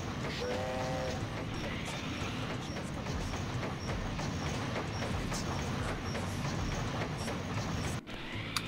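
A ghost train in the video game Sonic Adventure 2 rumbles and clatters steadily with a rail-like clickety-clack, nearly continuous for several seconds, with a brief dropout near the end.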